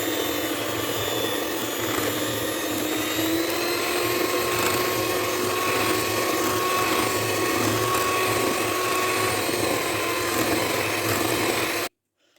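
An electric mixer beats honey cake batter of oil and honey in a bowl, a steady loud whirring drone with faint scraping that runs unbroken until it cuts off abruptly near the end.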